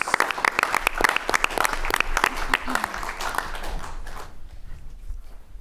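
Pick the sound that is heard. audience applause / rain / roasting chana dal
audience applause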